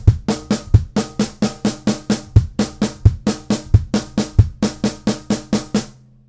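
A steady linear drum pattern of a deep kick followed by right and left hand strokes, repeating evenly and loud, with no voices.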